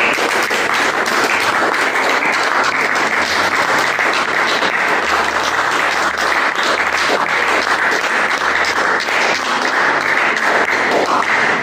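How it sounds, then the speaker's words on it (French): A congregation at a French-language church service applauds the Lord, with dense, steady clapping and crowd noise throughout, loud and continuous from start to finish. "Acclamons le Seigneur."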